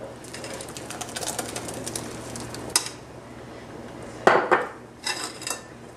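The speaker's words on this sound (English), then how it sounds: "we're going to dump it into a bowl with a strainer" Blended posole mixture dumped into a bowl fitted with a strainer, a stretch of pouring and splashing followed by loud metallic clanks and clatter of the bowl and utensils, close up with no voices.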